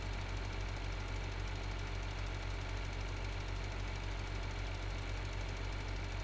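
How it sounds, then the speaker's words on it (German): In the Farming Simulator video game, a tractor engine runs with a steady low drone and a faint rhythmic knock, constant and unchanging throughout, with no talking. "Aber man sieht, der Traktor schafft es hier locker, ohne Probleme."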